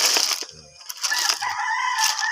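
A rooster crows loudly and close, a drawn-out call with a rising then held tone, with brief low clucks and a faint voice around it.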